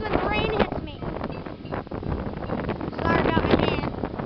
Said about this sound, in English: It's getting really windy now. Wicked windy.